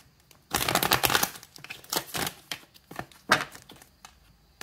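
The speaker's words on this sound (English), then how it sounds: "let's do two more shuffles and get to it here" Tarot cards are shuffled by hand in several quick bursts, producing crisp papery riffles and soft slaps up close, separated by short pauses, with no voices.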